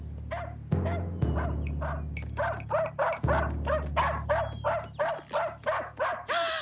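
A dog barks in a rapid run of sharp, loud yelps and yips, close by and alone, the barks coming faster and more regular toward the end.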